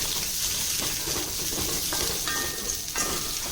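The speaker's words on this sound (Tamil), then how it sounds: "இப்போ இதை நல்லா நாம் வதக்கிக்கணும்" Gooseberries sautéing in a hot pan for Andhra-style gooseberry pachadi: a steady close sizzle with scattered spoon scrapes and brief metallic clinks.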